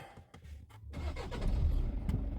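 A Volkswagen Passat B8 engine starts nearby: after a brief quiet, a low rumble rises and settles into a steady idle.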